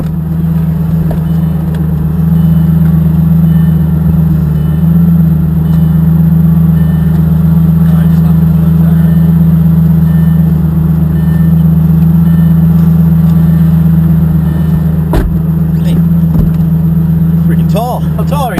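A Lamborghini sports car engine hums loud and steady through a drive with little change in pitch, while people talk over it.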